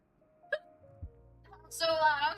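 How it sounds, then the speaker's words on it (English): A woman gives two short, sharp hiccups close to the microphone, then lets out a brief, loud, high-pitched vocal sound. "my hiccups came back"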